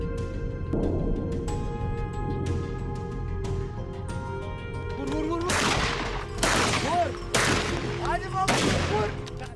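Shots fired at a wild boar on a forested mountain slope, with several sharp, loud gunshot cracks in close succession rising over a steady outdoor background.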